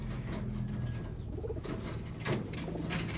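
Cock pigeon cooing in low, throaty repeated phrases, close and steady, set against a constant background hum with no talking.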